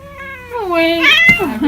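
A pet cat meows close up in a single drawn-out, rising and falling call, ending in a short second mew.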